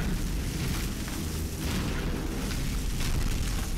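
A trap blown up in Batman: Arkham Asylum, heard as a sustained, loud, rumbling explosion with dense low boom and crackling debris running steadily through the moment, no speech over it.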